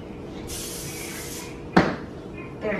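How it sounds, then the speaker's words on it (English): A cleaning spray bottle sprays onto a kitchen floor in one long hiss, followed by a sharp knock and a brief second spray, at close range in a quiet room. "There, spray the floor right there, just don't slip."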